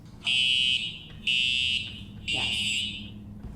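Three loud electronic fire drill alarm blasts, each about half a second long with short gaps, a shrill fire-alarm tone. A brief spoken word comes before the blasts.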